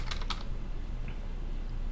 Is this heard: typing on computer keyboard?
yes